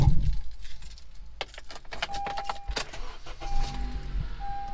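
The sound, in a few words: car keys jangling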